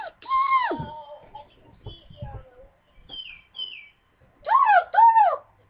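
A bird calls loudly and close by beside a mirror, giving several distinct chirps and whistled notes, a pair of strong calls near the start and another pair at the end, with quieter chirps between.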